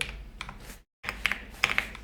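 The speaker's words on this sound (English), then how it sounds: "Let me use my keyboard." Typing on a computer keyboard during a coding session, bursts of quick clicky keystrokes broken by a brief silent gap, close and clear with no talk.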